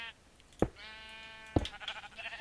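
A sheep in Minecraft, penned inside a wool farm, gives two short, clear bleats about a second apart against a quiet background.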